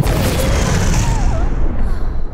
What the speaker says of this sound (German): Kaum war sie draußen, explodierte der Strudel und löste sich in nichts auf.